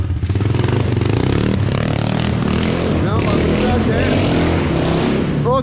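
A rebuilt mini motorcycle engine with a bigger piston runs steadily and loudly close by, a buzzy idle with rattling clatter, while people talk over it.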